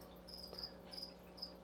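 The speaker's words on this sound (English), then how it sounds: "there are mini crickets in the grass and sorts everywhere." Crickets chirping in the grass, tiny ones at that: short, high, steady pulses repeat in regular bursts roughly every half second, faint and close, over a low continuous hum, with no voices.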